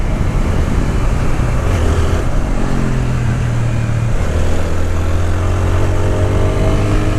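A 2026 TVS Apache 160R motorcycle engine revs hard past 7000 RPM, a loud continuous drone with rising harmonic tones, heard close throughout with road and wind noise.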